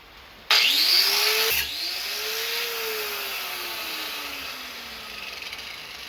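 A short piece of wire for a homemade spot welder's electrode is cut with a power tool: an abrupt loud burst, then a whining tone that sweeps up and slowly winds down over a steady hiss.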